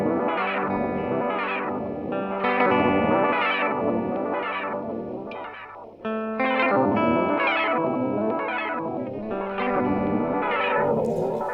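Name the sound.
Sinvertek Fluid Time MKii pedal pitch modulation effect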